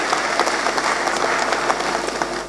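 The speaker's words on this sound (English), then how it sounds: "I think chairman deserves a round of applause" Audience applause at a university graduation congregation for the council chairman, a sustained burst of crowd clapping with a few sharper individual claps, moderately loud and steady for a couple of seconds with no speech.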